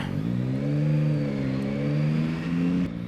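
A Yamaha MT-09 SP motorcycle engine drones steadily while being ridden off-road past roadworks, its revs rising and falling smoothly with a close, loud, continuous note that dips briefly near the end.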